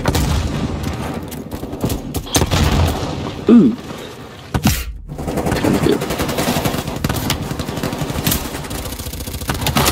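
Gunfire in the video game Call of Duty Cold War during sniper play: a dense stream of rapid shots and sharp bangs with a brief lull in the middle, loud and close over a steady game din.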